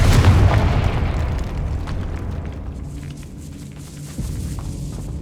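A Confringo blasting curse goes off in Hogwarts Legacy inside a decayed catacomb, with a loud close boom at the start and a long rumbling decay fading over several seconds.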